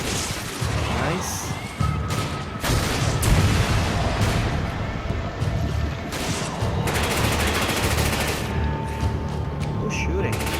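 Rapid video game gunfire from Resident Evil 5 rattles on almost without pause, dense bursts of shots layered over each other, with voices talking through it.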